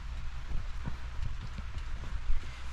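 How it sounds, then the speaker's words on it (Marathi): Heavy rain falls steadily across a village, a dense constant wash with scattered drops and patters close by, no voices. "पाऊस सुद्धा खूप आहे गावाला"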